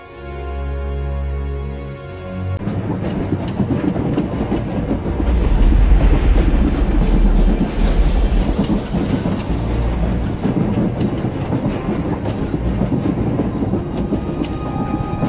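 Umbaran supply train rolling along in the SWTOR video game, a steady loud rumble with rhythmic clickety-clack of wheels on rails, continuous throughout after a brief low droning intro.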